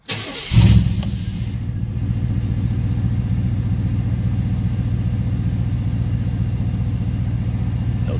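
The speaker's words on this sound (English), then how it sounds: "Got the new plugs and new coil in. So we're going to fire it off." A 1997 Chevrolet Silverado pickup engine, fitted with new spark plugs and a new coil, cranks briefly and fires, then settles into a steady, loud, close idle rumble that runs on alone.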